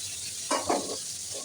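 Faint sizzling of pangas fish frying in oil, a soft continuous crackle with a couple of brief louder bursts.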